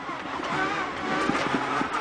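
A Subaru rally car of the First Motorsport team driving a stage of the Critérium des Cévennes rally, its engine a steady, fairly loud drone with a faint rise in pitch throughout.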